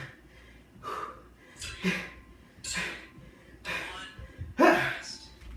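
Heavy, gasping breaths come in about five loud bursts, spaced roughly a second apart, during a HIIT core workout at home.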